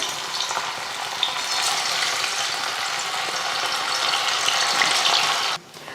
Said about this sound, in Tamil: நெத்திலி மீன் 1/2 மணி நேரம் நல்லா ஊறிடுச்சு. இப்போ பொரிச்சு எடுத்துடலாம்